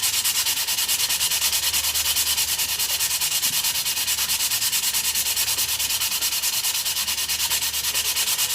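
Someone hand-sands ebony with 80 grit sandpaper in fast, even rubbing strokes, giving a continuous rhythmic scratching that stays close and steady throughout with no talk.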